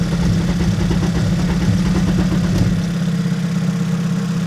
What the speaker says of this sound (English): It wants to start, but we keep losing RPM.